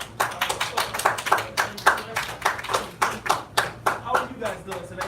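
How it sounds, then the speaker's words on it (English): Kids clapping for Kevin Carnes at a school talk, energetic rhythmic claps in quick repeated bursts, close and loud, with voices mixed in. "let's give Kevin Carnes a strong applause"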